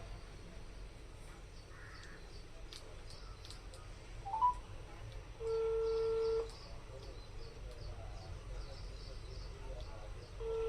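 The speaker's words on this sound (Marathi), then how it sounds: "आता मी कॉल लावणार आहे त्यांना" A single flat electronic tone sounds for about a second, then a quiet stretch. Faint background noise and distant birds continue throughout.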